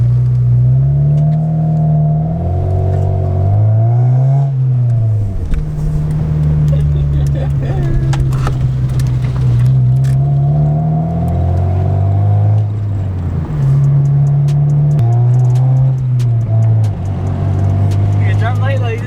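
A Honda Civic fitted with a loud aftermarket exhaust revs repeatedly, its raspy drone rising and falling in pitch through a series of throttle blips, heard close and very loud, as from inside the car.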